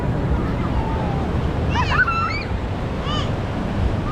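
Ocean waves washing onto the shore at Air Manis beach in Padang, a steady loud surf and wind roar with a few faint high cries and whistles over it.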